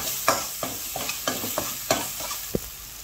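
Indian spices being stirred into a fish sauce in a pan, with a utensil scraping in about eight short, regular strokes against a low background sizzle, close and fairly quiet.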